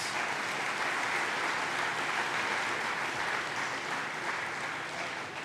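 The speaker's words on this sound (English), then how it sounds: "That also deserves a round of applause." Audience applause at a high school awards night fills the room, a dense, steady wash of clapping that holds at an even level throughout with no voices standing out.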